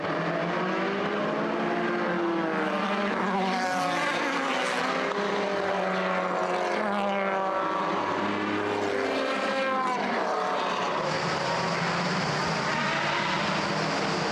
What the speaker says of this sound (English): just have a listen to these cars pulling off the grid